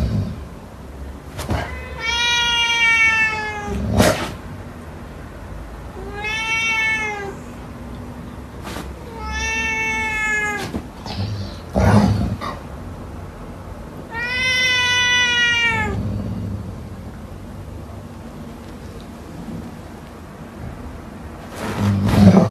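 A cat facing off against a dog lets out loud, drawn-out yowls, four long wailing cries spread over about twenty seconds. Sharp knocks and scuffling noises fall between the cries.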